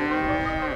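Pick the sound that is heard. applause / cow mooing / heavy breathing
cow mooing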